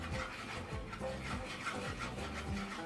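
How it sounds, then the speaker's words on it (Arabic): Chocolate being stirred into hot cream in a pan, a steady scraping rub of the utensil against the pan that runs through the whole stretch with no talking. "غادي نحركها مزيان هنا حتى يذوب معايا هاد الشكلاط في الكريمه اللي حتى سخونه"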